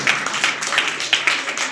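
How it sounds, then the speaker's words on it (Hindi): An audience at a coaching class send-off for 12th-pass students claps in a steady, rhythmic applause, a brief burst of evenly spaced claps close by. "ताली बजाइए, ताली बजाइए।"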